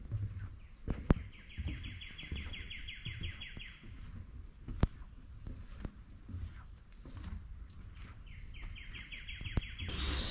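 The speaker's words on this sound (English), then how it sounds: "This hooded warbler and a red-eyed vireo." Birdsong from a hooded warbler and a red-eyed vireo outdoors on a boardwalk trail: a repeated trilling phrase twice plus scattered chirps, fairly faint over light footsteps and ambient noise.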